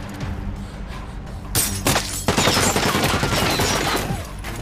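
Dense film shootout gunfire at the Somali border as troops fire on an assault team and a school bus, rapid overlapping shots and bursts filling the scene, loud and continuous after a quieter opening.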